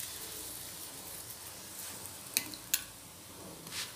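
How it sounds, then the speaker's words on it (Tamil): Beetroot paratha fries in oil on a pan, giving a soft, steady sizzling hiss with a few small sharp pops partway through, heard alone without talk. "இது நல்லா ஃப்ரை பண்ணி எடுக்க வேண்டியது"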